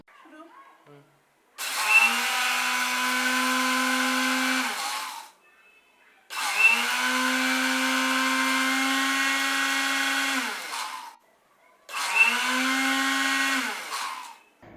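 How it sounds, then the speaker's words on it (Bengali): A blender grinds dry neem leaves into powder in three long bursts of several seconds each, a loud, steady high whir separated by short silent pauses. "ব্লিন্ডারে অনেক সময় ধরে ব্লিন্ড করতে হবে"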